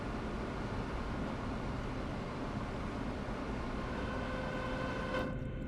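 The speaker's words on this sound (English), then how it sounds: "Alright, this train's going really well so far." A train runs in Train Sim World, a steady faint rumble and hiss of the moving train that holds even throughout, with a brief high tone near the end.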